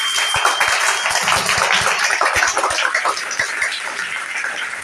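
At a kavi sammelan poetry recital, the audience gives a loud, sustained round of applause, with dense clapping filling the hall for several seconds.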